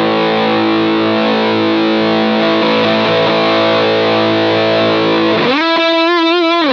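An electric guitar rings out through a Sinvertek Drive N5 Plus distortion pedal with gain turned up, a loud sustained crunchy chord, then switches to a wavering, warbling tone near the end.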